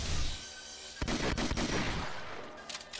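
A shotgun fires in the video game Doom: Project Brutality, with several loud, close blasts in quick succession and a rumbling tail after each shot.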